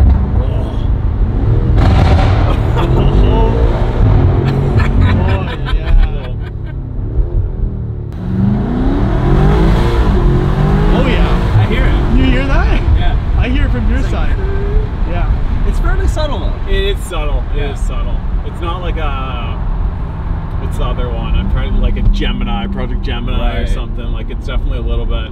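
BMW M5 F90 fitted with a Dinan intake and turbo inlet pipes, downshifting with loud engine revs and intake noise that rise and fall throughout, heard from inside the car under continuous conversation.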